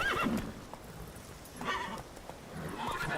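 A horse in the video game The Witcher 3 gives a brief whinny at the start, followed by faint clip-clop hoofbeats and game ambience.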